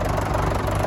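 A Fordson Major tractor engine runs steadily up close, a loud, even low throb with a knocking pulse and no voices over it.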